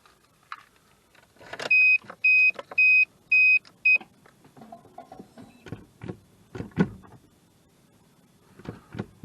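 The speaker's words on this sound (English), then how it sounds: "it's just a case of turning the ignition on" With the ignition of a Mazda Bongo van switched on, a series of five loud, evenly spaced dashboard beeps sounds, followed by scattered clicks and light handling noises.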